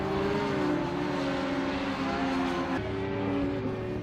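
Racing sidecars howl around the Magny-Cours circuit, their engine notes held high and steady in a continuous loud drone, with slight pitch shifts as they pass.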